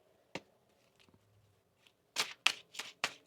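Tarot cards being shuffled by hand: a few faint taps, then a run of close, crisp riffling bursts toward the end, with no talking.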